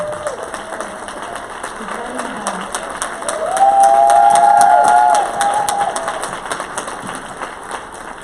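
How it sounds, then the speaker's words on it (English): Audience applause and cheering at a women's legislative briefing, steady clapping with a surge of louder cheering and whoops in the middle before settling back down. "Please give her a round of applause."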